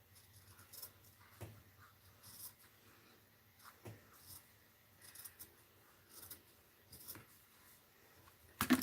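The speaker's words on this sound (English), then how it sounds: "let's get out my scissors and cut it here" Scissors snip through fabric in short, soft cuts spaced a second or so apart, quiet and close with a faint background hum.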